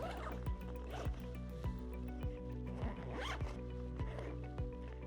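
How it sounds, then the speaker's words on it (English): A zipper pulled along the U-shaped opening of a Sitka Mountain Hauler 4000 hunting pack, a series of short rasping runs repeating at a steady rhythm close by, with no talk over it. "simply zip up the U-shaped zipper"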